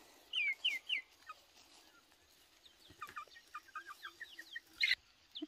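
Hungry young chickens clucking and peeping, with a burst of close chirps at the start, then a busier run of overlapping calls and a few louder cries near the end, against a quiet background.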